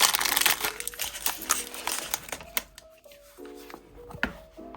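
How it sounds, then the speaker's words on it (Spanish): Metal eyelets are pushed one by one into punched holes in leather for a handmade leather cover, giving small crinkly clicks and taps with brief scraping between them, close and fairly quiet. "Esto es ir metiendo en cada agujerito el ojete"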